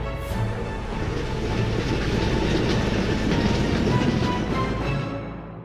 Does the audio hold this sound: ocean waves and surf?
no